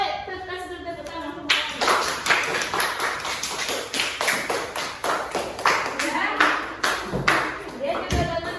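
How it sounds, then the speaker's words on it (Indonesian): A classroom of children breaks into brisk applause, dense clapping that keeps going for several seconds after a short stretch of speech. "Kasih dulu tepuk tangan."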